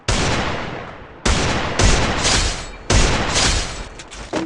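Gunfire from a shooting video game, with three loud bursts of rapid shots at roughly 1.2-second intervals, each one sharp, close and dense, with no voices over them.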